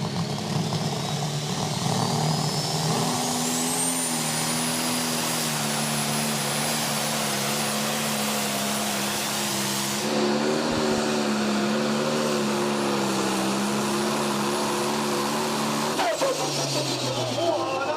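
Mud Patrol, a roughly 3,700-horsepower tractor-pulling machine, roars steadily at close range with a rising engine drone through the whole run, while an announcer talks over it.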